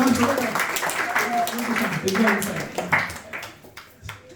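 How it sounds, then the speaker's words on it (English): An audience at a Bhagavad Gita talk claps for a little child, a brief scattered patter of applause under murmuring voices that thins out toward the end. "please give a round of applause to the little one"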